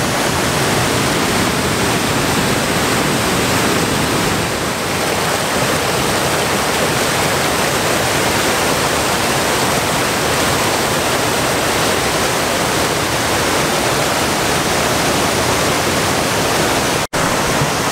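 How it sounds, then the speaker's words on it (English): The Crowe River rushes through a narrow rock gorge, a loud, steady broadband roar of churning water that stays close and constant throughout. "it's the Crowe River, and it's called a gut because of it gets channeled down into this narrow gorge"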